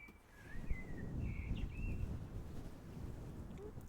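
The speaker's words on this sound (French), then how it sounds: "Et les oiseaux, ils sont arrivés." A few thin, high bird chirps and whistles over low wind rumble, faint and somewhat distant.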